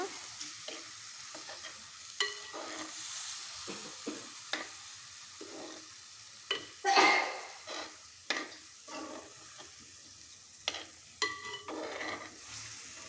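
Tamarind and okra (bendakaya) pulse curry being stirred in a pan, with scattered scraping strokes and a soft sizzle, fairly quiet and alone, one sharper clatter midway.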